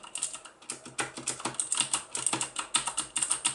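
Rapid, crisp clicking keystrokes from a Das Keyboard mechanical keyboard with MX Blue switches, typed continuously in an uneven rhythm, close and fairly quiet.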